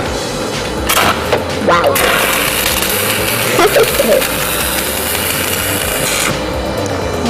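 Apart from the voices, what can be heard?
stick welding on a ship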